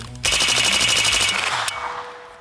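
Steyr AUG bullpup rifle firing a fast run of loud, close shots lasting about a second and a half, then a fading echo outdoors.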